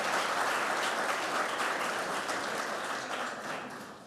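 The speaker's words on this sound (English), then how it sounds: "Let's give them a round of applause." Audience at a tech community welcome session applauding event volunteers, a dense sustained wash of many hands clapping that holds steady, then gradually tapers off toward the end.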